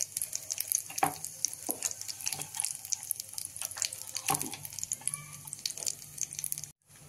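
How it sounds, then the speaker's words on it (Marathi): Mustard seeds and cumin crackle and sizzle steadily in hot oil in a pan over low heat, with scattered pops throughout before the sound cuts off abruptly near the end. "मोहरी टाकली की थोडे जिरे टाकून घेऊ।"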